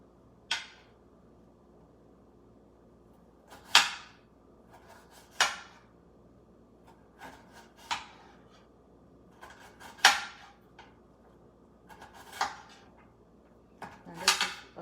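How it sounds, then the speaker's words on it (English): Knife chopping onion against a cutting board in a home kitchen, heard as sharp, isolated knocks roughly every one to two seconds over a quiet background, with no talking. "Sorry about the noise against the cutting board."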